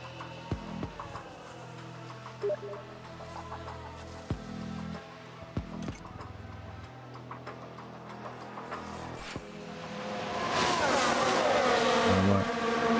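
Formula 1 race cars in F1 Manager 2022 at the Monaco Grand Prix, a faint engine hum under ticking game sounds and music, building to a louder revving whine toward the end.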